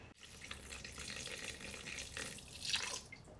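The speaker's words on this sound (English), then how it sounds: "I put the water over the top." Water is poured over a sourdough ferment in a bowl, making a continuous close splashing rush that swells toward the end and then tapers off, with no speech.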